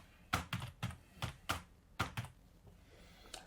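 Someone types a password on a computer keyboard: about nine quick, close key taps in an uneven rhythm, then a single tap after a short pause, all quiet and alone.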